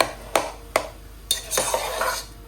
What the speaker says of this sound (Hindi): इस तरह से आलू डालने के बाद हम अच्छी तरह इसको मिक्स कर लेंगे